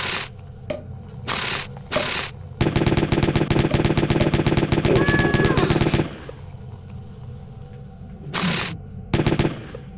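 Gunfire in the video game Jazzpunk: a few single shots, then a loud rapid automatic burst lasting several seconds, followed by more isolated shots.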